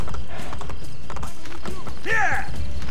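In the Assassin's Creed Brotherhood video game, a horse's hooves clip-clop loudly in a quick, steady gallop, with a whinny near the end and a voice speaking over it.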